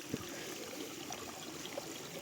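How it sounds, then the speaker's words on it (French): Mountain stream trickling over rocks on a summer alpine trek in July, a steady close wash of running water with no voices. "Tous les 50 mètres je traverse un ruisseau."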